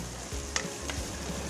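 Seafood sizzling and frying in a pan, a steady crackling hiss with a couple of soft clinks of a utensil stirring.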